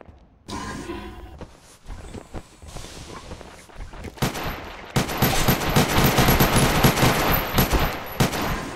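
Rapid gunfire from a weapon in the space-station game Space Station 14, dense bursts of shots growing louder and more sustained toward the end, with some scuffling before.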